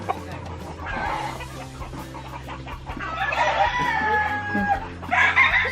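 Chickens on a rural Philippine farm cluck and squawk nearby before slaughter, with agitated bursts of calls rising in loudness toward the end over faint background noise.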